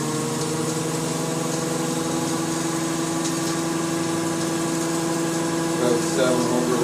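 The electric motor of a BMW E31 840Ci EV conversion runs in second gear at low revs, giving a steady, close, layered tonal whine that holds evenly throughout with a slight rise near the end.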